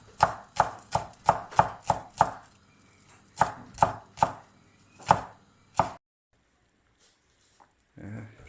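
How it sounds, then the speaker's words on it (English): A knife chops finely through coriander and spring onion on a board in quick rhythmic bursts of sharp, close taps, pausing between runs, with a brief voice at the end. "chop the coriander really fine. It need to be chopped into fine pieces, like so."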